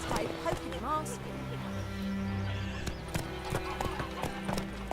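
Roach, the horse in the video game The Witcher 3: Wild Hunt, gallops with steady rhythmic clip-clopping hoofbeats and a brief whinny, close and clear while a voice talks over it.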